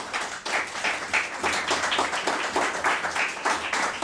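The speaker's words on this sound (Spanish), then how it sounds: "Dale un aplauso a Dios." A church congregation claps together during a sermon, steady overlapping handclaps with a loose rhythmic pulse, fairly close and sustained throughout.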